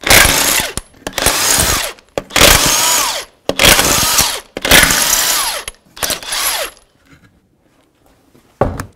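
Pneumatic or electric power tool taking off the front wheel of a 1984-2001 Jeep Cherokee: six loud, close bursts of whirring rattle, each about a second long with short gaps, then quiet.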